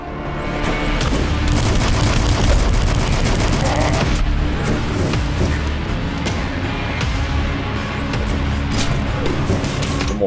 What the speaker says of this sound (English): The mortar again.